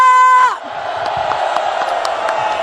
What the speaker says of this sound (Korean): 손 올려 함성을 지릅시다